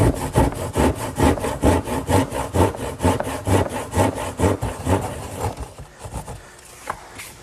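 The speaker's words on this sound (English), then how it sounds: "now I'll just finish off the corners using my trusty old hand saw" An old hand saw cuts through the corners of a wooden piece with rhythmic, close, loud rasping strokes, about fifteen in a row, before slowing into a few scattered scrapes.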